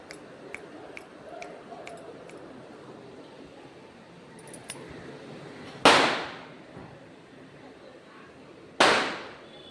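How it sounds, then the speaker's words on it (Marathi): Firecrackers burst outside, two sharp loud bangs a few seconds apart, each trailing off in a short crackling decay over a quiet background. "फटाके फुटतात धडम धुडूम धडम धुडूम"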